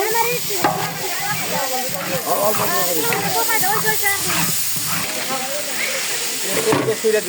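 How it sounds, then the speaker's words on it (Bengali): Garlic paste frying in a large cooking pot over a wedding-feast fire: a dense, continuous hissing sizzle with stirring scrapes, and a person talking over it throughout. "রসুনটা ভাজা হয়ে গেছে, অল্প পানি দিয়ে দিল।"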